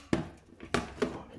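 A plastic lid is prised off an ant nest container, giving three sharp snapping pops, close and fairly loud, with quiet handling between them.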